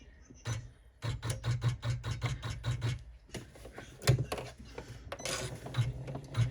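An embroidery machine stitches a sling backpack in the hoop, giving rapid rhythmic bursts of mechanical clicks and thumps with short pauses between runs, close and fairly quiet.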